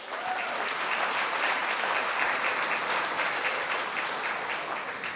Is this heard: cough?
no